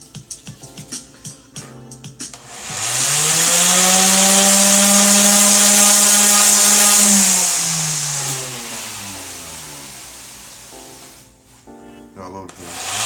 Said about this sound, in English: Those little white teeth are what I'm trying to sand off with the sander.